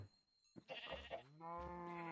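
A sheep bleats in the Minecraft SevTech Ages modpack: a short, clear, wavering bleat that follows a brief rustle, close and fairly loud, with no voices over it.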